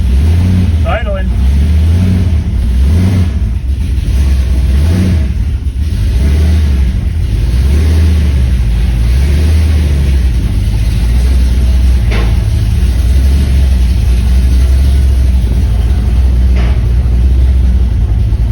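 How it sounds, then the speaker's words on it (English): A 1964 Corvette engine with its air cleaners removed settles into a loud, rough idle after an ether start, a close, steady rumble with a pulsing low-end throb, while voices talk over it. "It's idling."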